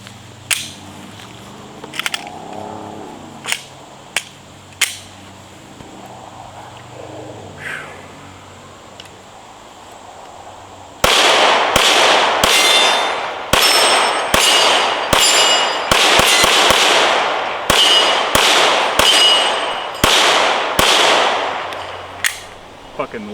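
Glock 19 pistol fired repeatedly outdoors, loud sharp reports in an irregular burst with some in quick succession, following a quieter stretch of scattered distant shots.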